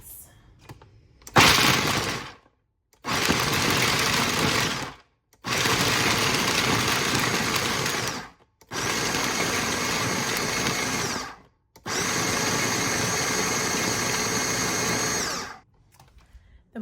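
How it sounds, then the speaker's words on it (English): Walnuts ground alone in a kitchen blender: five loud, sustained bursts of grinding motor noise, each a couple of seconds long, separated by short silent pauses. "Shake in some walnuts. And I'm just going to grind that on its own first"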